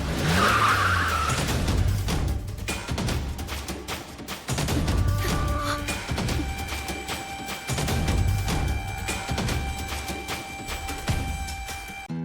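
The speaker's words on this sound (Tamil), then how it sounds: "கார் சத்தம் கேக்குது, இந்நேரத்துல யாருன்னு தெரியலையே" A car pulls up at night, heard as a loud, continuous engine rumble with tyre noise and skidding textures running throughout, backed by a dramatic soundtrack swell.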